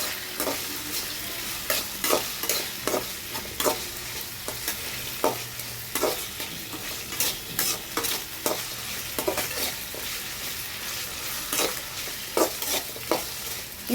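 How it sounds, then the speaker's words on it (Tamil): Onions frying in a pan while being stirred, a steady close sizzle broken by regular scraping and stirring clicks throughout, with no talking. "இப்போது இது கூட நம்ம வந்து வெங்காயம் பார்த்திங்கன்னா இப்போ பொன்னிறமாக நல்லா வணங்கிருச்சு."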